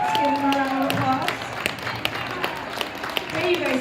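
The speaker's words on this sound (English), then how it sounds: "Let's give them a round of applause." A school assembly audience applauds 87 students standing for perfect attendance, the clapping a dense, steady patter from a crowd while voices talk over it throughout.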